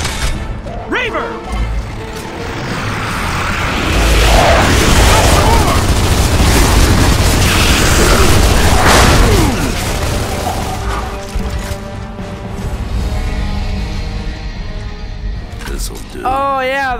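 Heavy weapon fire and explosive blasts from the Bolt Shot gun in the video game Gears of War 2, loud and sustained through most of the stretch, with a voice talking over the battle noise near the end.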